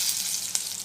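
Potato pakodi (aloo pakodi) deep-frying in hot oil for an evening snack, giving a steady close hiss of sizzling with one brief sharper pop partway through.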